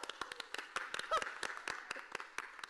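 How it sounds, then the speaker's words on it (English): A theater audience claps for food service staff at a hotel-set stage performance, a scattered run of sharp hand claps, fairly faint and somewhat distant, with no voices. "Let's give a hearty round of applause for the hardworking food service staff here at the Best Western."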